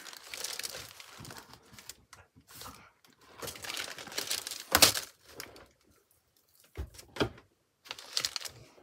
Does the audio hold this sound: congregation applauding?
no